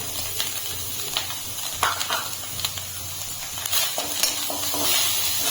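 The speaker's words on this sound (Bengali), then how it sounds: "গুড় আর নারকেলটা আমি জাল দিয়ে নেব।" Jaggery and coconut milk heating together in a wok, a low steady bubbling sizzle with occasional stirring clicks and scrapes, close and moderately loud, without speech.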